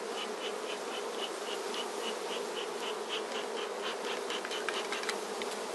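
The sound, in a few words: honeybees buzzing in a hive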